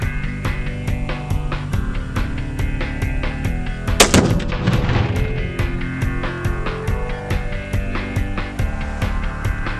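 A rifle shot sets off a half-pound exploding target, producing a single sharp, powerful blast midway that rolls out in a trailing echo over faint background ticking.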